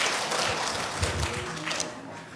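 Applause from a church congregation during a sermon gathering, a brief burst of many hands clapping at moderate level with faint voices mixed in.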